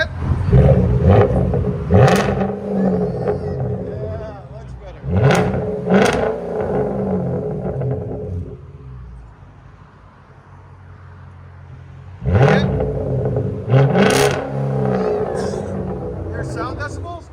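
Modified car engine with an aftermarket exhaust, blipped into several sharp revs that rise and fall over a steady idle, with a quieter idle stretch in between, loud and close, with voices talking over it.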